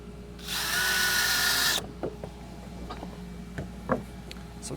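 A power drill drives screws into scrap wood while building a goat stand: one loud, close, steady whirring burst of about a second and a half, followed by scattered light taps and knocks as the work continues.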